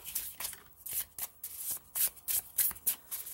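Tarot cards being shuffled in the hands before a love reading, a run of crisp riffling bursts and soft slaps in an irregular rhythm, close and clear with no talking.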